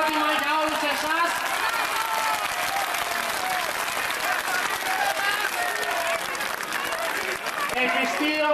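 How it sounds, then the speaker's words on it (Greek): Large outdoor rally crowd in Athens' Pedion tou Areos applauding, a sustained roar of dense clapping lasting several seconds while a voice over a loudspeaker carries on above it. "Ένα χειροκρότημα για όλους εσάς."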